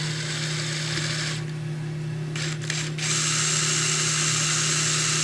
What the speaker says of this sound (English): I'm gonna drill it here with a 1/8.